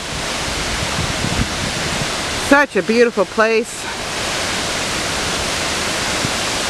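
Shellburg Falls in Santiam State Forest, Oregon, roars as a steady, loud broadband rush of falling water, with a person briefly speaking partway through over the constant noise.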